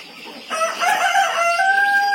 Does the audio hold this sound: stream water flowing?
no